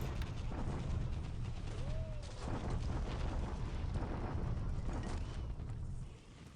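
Naval bombardment explosions in the War in the Pacific video game form a dense, continuous rumble of booms and blasts. It stays steady and fairly faint before fading near the end.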